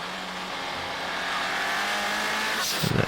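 A car drives very fast up a hill in Stockholm, its engine a loud, steady, rising roar that builds in pitch, with a brief burst of rougher noise near the end and no talk.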